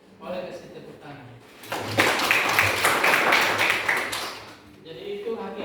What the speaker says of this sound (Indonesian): Boleh kasih tepuk tangan.